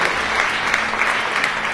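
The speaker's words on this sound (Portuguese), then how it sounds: "Dá um aplauso ao Senhor" A church congregation claps in a steady, dense burst of applause from a crowd, continuous throughout.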